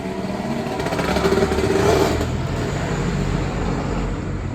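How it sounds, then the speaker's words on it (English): Motorcycles pass by outdoors, engines whining and buzzing in a steady roar that swells slightly midway and then settles, close and fairly loud with no talking. "as you guys hear, the motorcycles."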